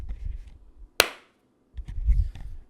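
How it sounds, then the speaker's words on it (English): A single sharp sync clap sounds close by, struck once as a loud isolated crack between stretches of low background rumble. "For real this time. Sync clap."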